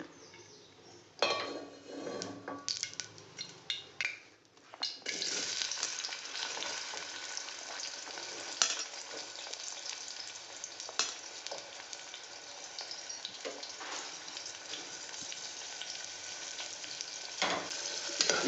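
A beans and peas curry fries in plenty of hot oil with a steady, dense sizzle, close and loud, broken early by a few stirring scrapes and clinks.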